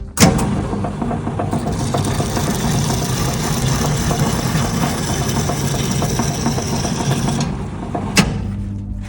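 The STvega VML H150 peeler turns a pumpkin with a steady, loud motorized hum and rattle. A sharp click marks the start and another comes near the end, with no talking over it.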